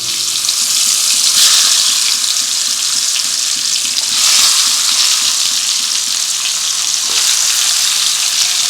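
Pointed gourd (potol) pieces frying in hot oil, a half-and-half mix of white oil and mustard oil, for a Bengali potoler dorma: a steady, loud broadband sizzle runs throughout, with slight swells and clinks of stirring.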